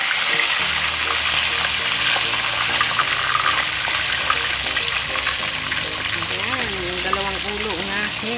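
Tilapia frying in hot oil in a pan, heavy continuous sizzle and crackle filling the whole stretch, with faint voice and kitchen sounds underneath.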